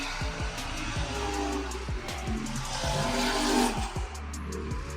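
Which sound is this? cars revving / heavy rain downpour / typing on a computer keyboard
cars revving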